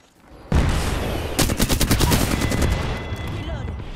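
Rapid automatic gunfire in a battle royale style shooter erupts loudly after a brief lead-in, with dense repeated bursts continuing under ongoing game sound, and a voice talking faintly in the mix.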